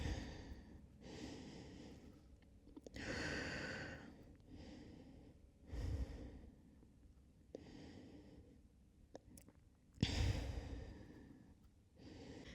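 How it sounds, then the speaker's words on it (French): Deep, slow breaths during a power yoga session, several long audible inhales and exhales close to the mic with quiet pauses between them. "on essaie aussi de calmer petit à petit son souffle. On va venir prendre 3 respirations encore ici."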